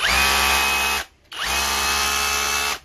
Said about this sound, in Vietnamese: Còn khi khoan búa thì mọi người cùng nghe này.